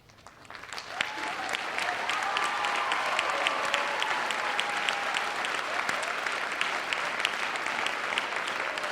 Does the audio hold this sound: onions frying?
no